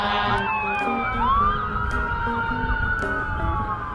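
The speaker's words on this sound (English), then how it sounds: "I hear fire trucks." Fire truck sirens passing through Cleveland streets, a loud wailing siren with sweeping rising and falling tones and horn blasts, heard close and continuous throughout.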